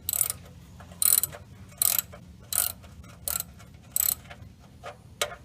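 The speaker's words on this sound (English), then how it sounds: "Then I want to grab my ratchet. Gonna switch the side to it. Make it so it's righty tighty." Ratchet tightening a bolt: bursts of sharp, close clicking repeat about every three-quarters of a second, seven or eight times, between quiet pauses.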